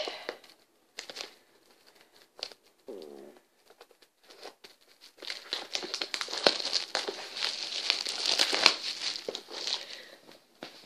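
Plastic shrink wrap is torn and peeled off a small-box board game expansion, Eldritch Horror's Forsaken Lore: a few quiet rustles at first, then several seconds of dense close-up crinkling and crackling, with a brief pigeon-like coo early on.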